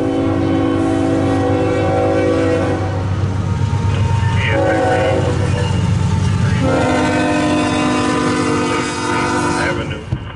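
A CSX Q135 intermodal freight train passes close by on wet track, its horn blasting loudly in long sustained chords over the heavy rumble and rattle of the cars.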